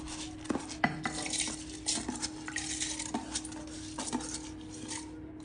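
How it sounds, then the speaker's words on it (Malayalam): Soaked raw rice goes into a mixer grinder jar in a home kitchen, with soft scraping, light clinks of utensil against metal, and quiet shuffling at close range. "ഇനി ഇത് ഒരു മിക്സിയുടെ ജാറിലേക്ക് ഇടുക."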